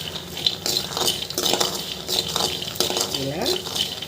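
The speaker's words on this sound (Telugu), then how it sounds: "ఇలా వేరుశనగపప్పుని వేయించుకోండి" Peanuts roasting in a pan while being stirred, a continuous dry rattling and scraping with soft sizzle, close and moderate in level, a voice speaking over part of it.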